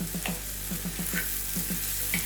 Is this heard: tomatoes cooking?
yes